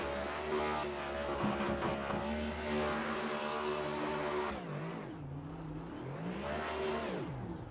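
The number 88 race car does a burnout on its victory lap at Sonoma, its engine roaring at sustained high revs with tire squeal, then the pitch dips and climbs again in loud, continuous waves.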